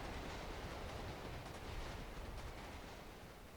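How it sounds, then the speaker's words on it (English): Train pulling into a station in the City of Heroes video game, a steady broadband rumble and rush of wheels and carriages throughout, fairly loud with no voices. "And just waiting for the train."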